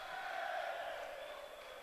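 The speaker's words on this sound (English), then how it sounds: "And the Falkirk fans raise their voices." Falkirk football supporters in a stadium raise a sustained, steady roar of crowd noise during a Dunfermline Athletic versus Falkirk league match, distant and even throughout with no clear individual voices.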